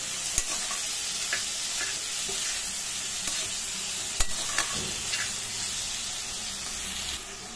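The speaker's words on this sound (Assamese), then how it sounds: "দি গোটেইখিনি আকৌ অলপ লৰাই দিছো" Steady sizzling of vegetables with tomato frying in a pan, with a spoon scraping and tapping as they are stirred; close and continuous, no talking.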